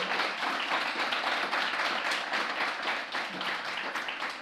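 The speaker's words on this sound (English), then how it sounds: "Can I have a round of applause," A live audience at an Edinburgh Festival programme claps steadily for a performer, a fairly quiet, even patter of many hands that carries on without voices over it.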